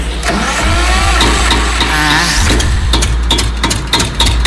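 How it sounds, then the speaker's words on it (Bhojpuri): A generator engine, refuelled, is cranked and catches, giving a loud close-up mechanical clatter with rapid pulsing knocks that settle into a running chug over several seconds, no voices. "अभी हम तेल रह के जनरेटर चालू करते हैं"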